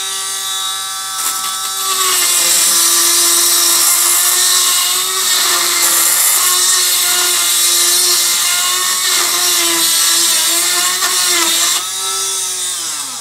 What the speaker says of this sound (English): I'll take a Dremel tool with a small little you know just a uh, carbide type end mill bit or something and uh, I'll just round that hole out.